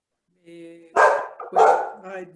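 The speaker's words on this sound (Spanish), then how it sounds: "Permítame sacar a mi perro porque ya quiere participar." A dog barking indoors, two loud close barks within a couple of seconds, with faint tonal murmuring around them.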